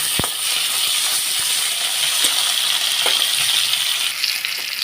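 Pointed gourd (potol) pieces, salted beforehand, frying in oil with a loud steady sizzle and hiss, punctuated by a few light clinks and scrapes of a utensil in the pan.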